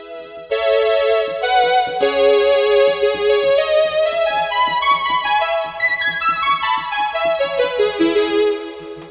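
A synthesizer string patch from a Reason 5 sample plays a bright, sustained melody of overlapping notes over a steady pulsing cumbia beat, loud and continuous throughout.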